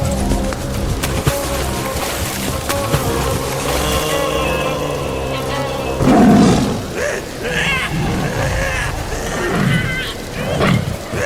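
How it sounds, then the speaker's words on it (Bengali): A cartoon tiger lets out deep, rumbling roars that swell loudly in the second half, rising over a busy soundtrack with voices heard faintly earlier on. "ওরে বাবা, এত বড় বাঘ!"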